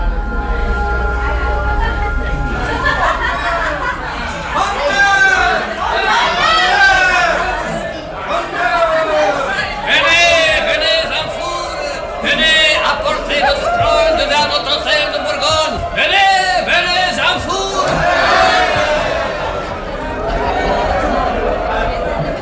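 Radio play crowd scene of an excited mob surging onto the Pont Neuf in Paris, with many overlapping voices shouting and chattering continuously and footsteps beneath.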